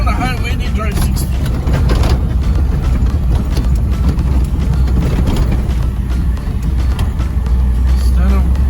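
A jeep barrels fast over a rough, badly broken road in Cuba on a safari tour, with a loud continuous engine and road rumble and rattling bumps all the way through, heard from inside the vehicle.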